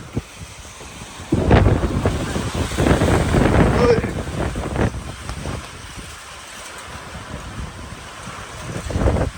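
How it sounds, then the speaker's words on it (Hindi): Heavy rain roars in gusty bursts with wind buffeting the microphone, loud and close, while voices talk faintly underneath. "बारिश हो गई तेज।"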